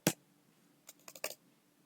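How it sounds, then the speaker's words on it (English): Typing on a computer keyboard, one sharp key press followed after a pause by a quick cluster of soft, close clicks, quiet and without voices. "Let's type Yash Popli."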